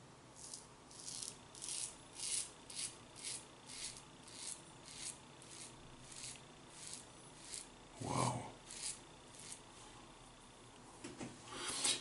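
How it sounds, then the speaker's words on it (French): Straight razor blade scraping across lathered skin during a traditional wet shave with Italian Barber triple-milled soap, heard as a series of soft rhythmic rasping strokes roughly every half second, close and quiet, with one fuller stroke near the end. "Vous entendez la lame un peu plus"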